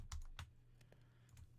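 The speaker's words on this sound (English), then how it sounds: "I do apologise that you can hear me just going tap tap tap tap with my keyboard." Quick, light clicks of a computer keyboard being typed on during a Minecraft live stream, a short burst of separate taps at close range with a low steady hum beneath.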